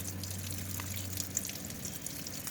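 Water drips and trickles from the clogged condensate drain of a Tempstar air conditioner coil after cleaning spray, a steady close, fairly quiet patter with no talk.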